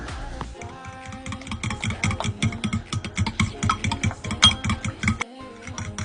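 Cracked eggs whisked in a bowl for curry scrambled eggs. Quick rhythmic clinks and taps of a utensil against the bowl come close and alone, with no talking.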